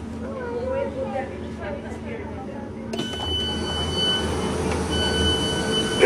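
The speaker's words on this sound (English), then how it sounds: "that's the local train" A local train runs on the rails near Wigan, a steady rumble that grows louder and brighter partway through, with a faint squeal of wheels, while people talk over it.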